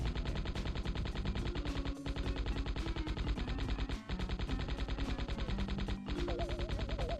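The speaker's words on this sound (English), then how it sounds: "Alright, so, yeah, Tommy gun." Rapid, steady bursts of Tommy gun fire in the Gex 3 prototype video game, a dense rhythmic rattle over looping game music, with two brief pauses in the stream of shots.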